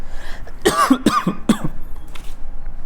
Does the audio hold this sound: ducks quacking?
no